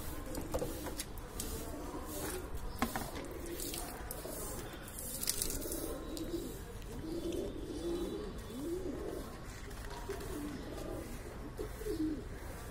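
Pigeons cooing in Nellore, soft repeated low coos from several birds close by, with scattered chirps, rustling and clicks in the background.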